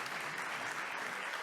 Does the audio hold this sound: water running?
no